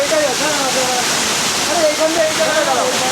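Water from a waterfall in the Ayodhya hills pours in a dense, unbroken roar close by, a steady full wash of noise while people talk over it throughout.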